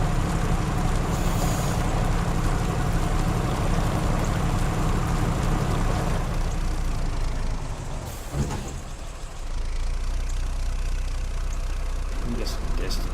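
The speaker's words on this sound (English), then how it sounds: "I can hear that truck back there behind me. He is huffing." A heavy off-road truck in the Spintires video game rumbles and huffs steadily nearby, a dense low engine drone that dips briefly partway through before resuming, with talk over it.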